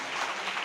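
Audience applause at a Tamil debate show, a brief, steady burst of dense clapping from a crowd without a break.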